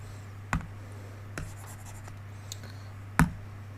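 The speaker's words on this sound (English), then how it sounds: "Let me write it as bottom top." Marker or chalk strokes on a classroom board during a math lesson, three short distinct taps and scratches spaced apart over a low steady hum, no talking.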